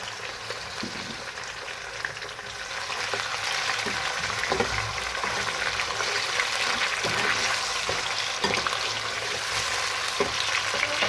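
Half a kilo of chicken frying in hot oil for aloo gosht, a steady loud sizzle with occasional stirring scrapes, continuing without a break.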